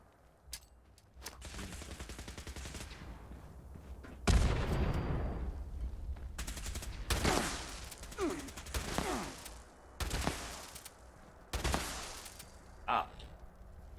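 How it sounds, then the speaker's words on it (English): Laser rifles fire in Fallout 76: repeated sharp zapping bursts come in irregular clusters over steady game ambience, some loud and close, with a few short vocal sounds between them. "Shooting the laser rifles."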